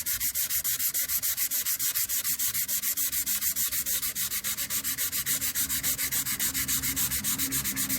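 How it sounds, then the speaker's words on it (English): Chrome part's inner lip being hand sanded, a loud, close, rhythmic rasp of quick back-and-forth strokes repeating steadily about five times a second throughout, with no speech. "you have to sand it like this"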